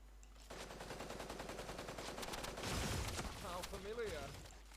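Rapid automatic gunfire from the Super Mecha battle royale game, a dense continuous burst over game sounds with voices talking under it.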